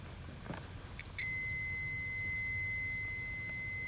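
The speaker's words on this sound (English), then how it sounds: "use my multimeter set to ohm and make sure it beep when I connect to the both" A multimeter's continuity beep on ohms, checking a fuse on a 2005 Nissan Titan, sounds as a steady high-pitched electronic tone that starts suddenly and holds, close and clear over faint background hum.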